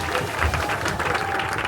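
Canned applause sound effect triggered from a buzzer at an apprenticeship award ceremony, a short burst of crowd clapping and cheering played back at fairly loud volume over a room murmur.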